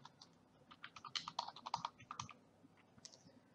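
Quiet, close keystrokes on a computer keyboard as a user name is typed, a quick irregular burst of clicks followed by a brief pause and a few more taps.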